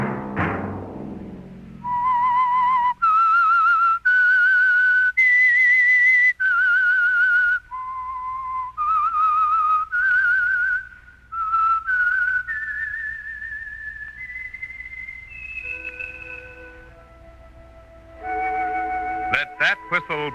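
A clear, loud whistled melody of sustained tones stepping up and down, the signature whistle of the radio mystery drama The Whistler, ending with a few brief sharp bursts.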